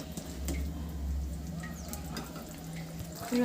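Prawn or fish curry simmering in a pan with gravy, giving a steady low sizzle and bubbling throughout, fairly faint with a few small clinks and no talk.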